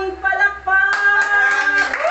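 A worship congregation claps in praise, a dense wash of hand claps rising under a loud, impassioned voice leading the crowd.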